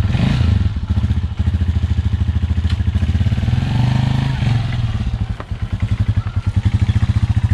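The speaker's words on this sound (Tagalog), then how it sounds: "may dala kami motor" A motorcycle engine runs steadily nearby, with a loud, fast, even pulsing throbbing the whole time and a slight dip and recovery in pace partway through.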